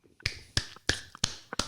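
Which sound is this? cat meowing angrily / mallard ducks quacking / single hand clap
single hand clap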